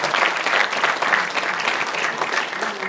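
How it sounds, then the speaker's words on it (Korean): A hall audience at an inauguration ceremony for a city sports council president claps steadily and loudly, with dense overlapping hand claps that fill the room and no talking over them. "다시 한번 박수 부탁드립니다."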